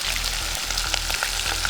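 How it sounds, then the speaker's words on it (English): Chicken frying in hot grapeseed oil gives a constant close sizzle, broken by scattered sharp pops and spits of oil over the steady hiss. "You have to be careful that oil does pop."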